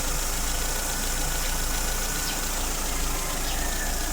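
A Mitsubishi Lancer engine idles at operating temperature, a steady, continuous hum with a constant whirring radiator fan layered over it, even and unbroken throughout.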